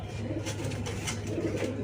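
Racing pigeons from a club loft cooing softly, low throaty coos repeating over steady background hum, fairly close with no talking.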